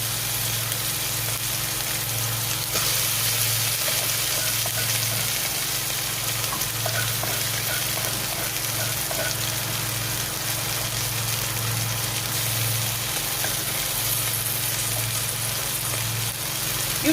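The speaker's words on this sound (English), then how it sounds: "I'll be going in with my onions, ground ginger, garlic, and fresh pepper" Onions, ground ginger, garlic and fresh pepper frying in a pan give a continuous, even sizzle over a low hum, close and steady throughout.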